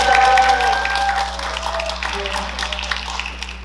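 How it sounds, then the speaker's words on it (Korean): An audience at an academic conference applauds, a broad patter of clapping over a steady low hum that gradually thins out. "큰 박수 부탁드립니다."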